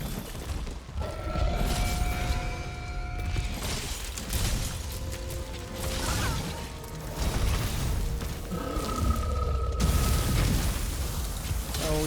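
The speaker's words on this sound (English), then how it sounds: "is that just ambient explosion noises?" Rumbling ambient explosions and mechanical booms in Monster Hunter World: Iceborne, with low rolling blasts, creaks and tonal game effects layered together under a continuous background drone.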